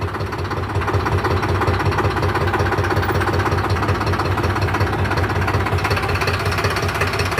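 A tractor engine, left standing for two days, idles loudly and steadily up close, with a fast, even knocking rhythm running through its low rumble.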